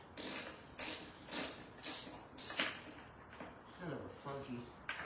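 A ratchet wrench clicks as it works a bolt loose on a boat trailer, five quick bursts of ratcheting close up followed by softer scraping and tool handling.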